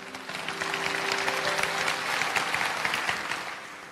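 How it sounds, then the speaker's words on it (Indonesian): A church congregation claps together in a swelling, sustained round of applause that builds and holds, filling the room with dense hand claps and faint crowd murmur. "Mari kita berikan tepuk tangan untuk Tuhan dulu."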